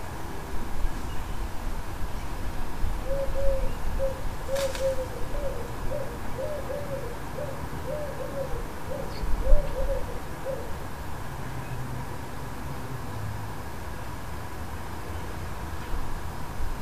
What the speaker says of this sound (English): And now we can see the reason for all that noise. This wood pigeon is nesting nearby.